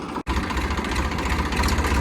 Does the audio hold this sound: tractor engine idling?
yes